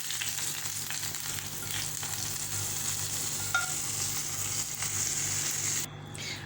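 A tadka of hing, kasuri methi and curry leaves sizzles into a pot of kadhi, a steady, close crackling hiss that stays even before cutting off sharply near the end.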